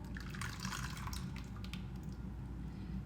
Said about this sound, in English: Okay, our butter has melted. Let's pour that in the bowl.